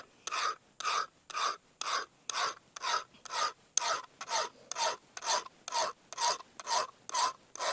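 A Mora knife blade is stroked against a sharpening stone in about fifteen steady, even rasping passes, each a short scrape followed by a pause, close up and fairly quiet with no talking.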